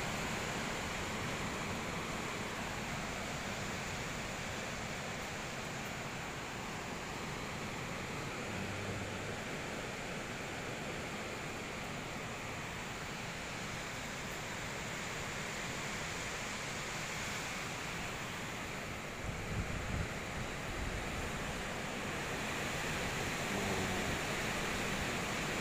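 Strong wind roaring in stormy weather at sea off Waisai, Raja Ampat, a constant broad rushing noise that fills the whole stretch, with a few brief buffeting thumps near the end.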